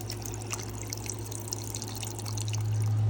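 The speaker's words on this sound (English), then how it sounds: "It has 3 filters in the top. You put the water in there and it filters it through those, and then it comes out down here in the spigot" Water trickling and dripping from a countertop filter's spigot after passing through three top-mounted filters, a steady close drip and trickle that swells into a stronger continuous flow near the end.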